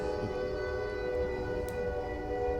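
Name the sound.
train horn outside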